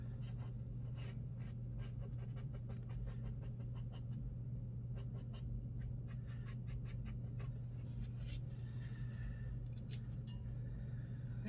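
Oil paint being scrubbed out on a tonalist painting with a paper towel or cotton swab: faint, scratchy rubbing strokes come in short bursts over a steady low background hum.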